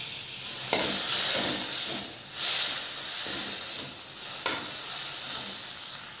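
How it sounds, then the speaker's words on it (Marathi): Onion and tomato sizzle and hiss in oil in a pan while being cooked for a potato curry, with a steady frying hiss and a few louder bursts as the pan is stirred, close and with no talking. "आपले हे कांदा टोमॅटो नरम होईल लवकर शेकायला."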